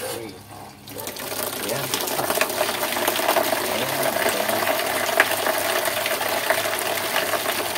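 Tap water gushes steadily from a faucet into a Whirlpool LSP780GP washing machine with a restored strong flow, a continuous broadband rush with a brief word spoken near the start.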